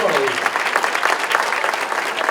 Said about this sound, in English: Again, a big round of applause for Carli.